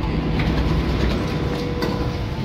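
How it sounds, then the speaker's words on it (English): A Singapore North East Line metro train rolls past with a steady loud rumble and rhythmic wheel clatter, no voices. "I'll be boarding the North East Line train soon."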